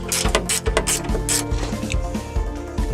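A hand ratchet works on truck bumper bracket bolts during a front bumper removal for a 2-inch budget body lift, giving rapid rhythmic clicking strokes in short bursts, close and fairly loud, with no voices.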